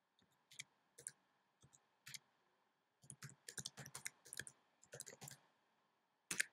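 Computer keyboard keys tapped in short irregular bursts and pauses while a domain name is typed, crisp close clicks with no talking.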